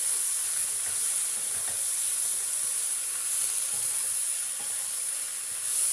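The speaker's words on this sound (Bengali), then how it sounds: "সেইটা দিয়ে দেব। ভালো করে আমি সবজির সাথে মিশিয়ে নেব।" A ground paste of ginger, black mustard and poppy seeds stirred into vegetables frying in a pan, a steady close sizzle and hiss with soft stirring scrapes throughout.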